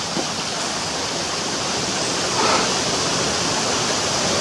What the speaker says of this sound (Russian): Ручеек тут.